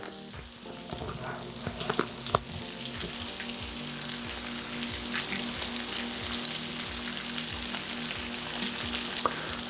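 Italian sub meats frying on a flat griddle, laid out piece by piece, with a steady crackling sizzle and scattered pops, scrapes and clatters of a spatula, and no talking.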